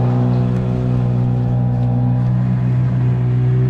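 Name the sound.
kayak motor running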